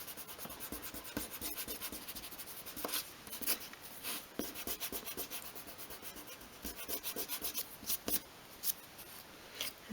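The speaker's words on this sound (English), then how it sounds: "And then erase those pencil lines." An eraser rubs briskly back and forth over pencil lines on a small wooden dollhouse piece, a close, quiet scratchy scrubbing in uneven bursts with short pauses.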